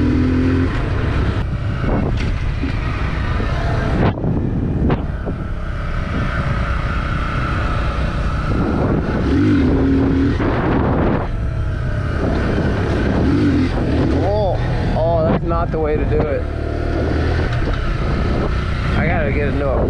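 A 2021 Honda Z125 motorcycle's engine rises and falls through gear shifts while riding, steady and close, with someone talking over it throughout.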